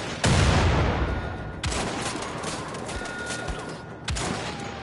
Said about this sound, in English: It's a really badass concept for a bolt action rifle.